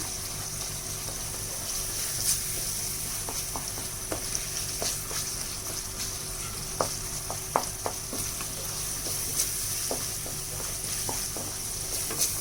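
A tomato rice mixture fries in a pan, with a continuous close sizzle and scattered clicks of stirring against the metal throughout.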